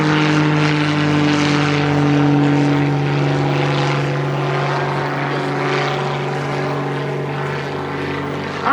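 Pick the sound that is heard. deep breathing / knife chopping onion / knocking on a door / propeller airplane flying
propeller airplane flying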